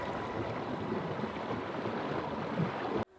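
Small dinghy motoring up a river through mangrove swamp, a steady close rumble of motor, water and wind noise that cuts off abruptly at the end, with no voices.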